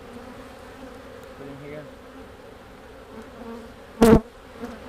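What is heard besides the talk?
bees buzzing around an opened beehive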